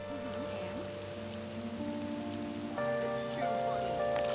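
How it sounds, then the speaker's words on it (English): Rain in the video game Persona 5 Royal, a soft steady patter underlying sustained background music tones, fairly faint and continuous. "Well, I love the rain."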